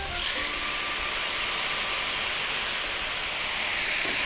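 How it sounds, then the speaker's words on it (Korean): Kimchi broth simmering and reducing in a pan with pork, vegetables and chili, giving a steady, even hiss and bubbling sizzle throughout, close and moderately loud, with no talk over it. "이 상태에서 김치 국물을 졸여주는 거예요."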